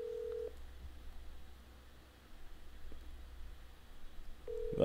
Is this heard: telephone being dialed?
yes